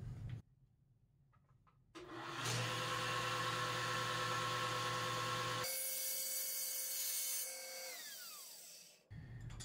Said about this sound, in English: I'll set it up on the table saw here with a 45 degree block and cut it through.